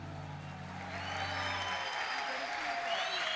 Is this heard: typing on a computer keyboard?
no